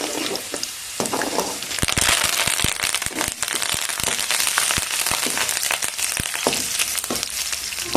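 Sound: dried red chillies and curry leaves frying in oil with garlic

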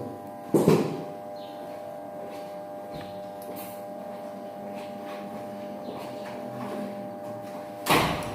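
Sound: door being closed

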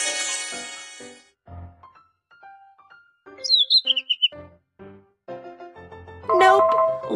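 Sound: bird chirping in a video game

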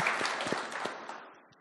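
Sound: audience applauding a panel guest

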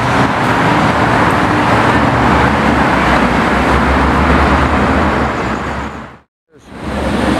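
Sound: silver Ferrari F8 car engine driving past

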